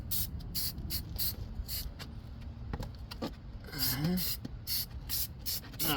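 Aerosol lubricant sprayed onto a drum brake shoe on a 2016–2022 Honda Pilot, heard as repeated short hissing bursts in quick succession with some light metallic handling between them.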